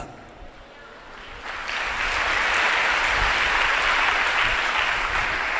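An audience at a church gathering breaks into applause, a dense, steady wash of clapping that swells after a quieter opening and holds loud to the end.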